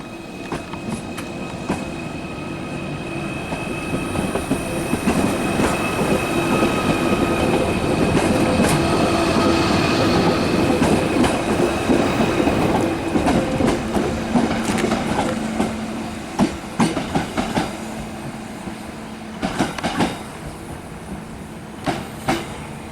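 A Merseyrail electric train heading to Liverpool Central passes close by, with a loud sustained rumble and motor whine building and fading, then rhythmic clickety-clack of wheels over rail joints as it moves away.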